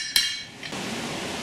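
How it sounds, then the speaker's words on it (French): A single sharp metallic hammer strike on a metal piece at a forge, followed by a fainter ringing tap and a steady background hiss, close and fairly loud. "La pièce est martelée pour lui donner sa forme définitive et un aspect moins lisse"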